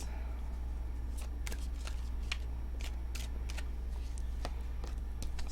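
Tarot cards are shuffled by hand in a quiet room, giving soft, irregular riffling taps and brief clicks close by over a low steady hum, with no speech.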